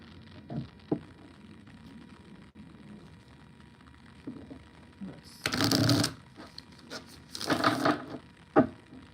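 A deck of tarot cards being shuffled by hand, two dense bursts of riffling with scattered soft card taps and handling clicks between them, close and fairly quiet.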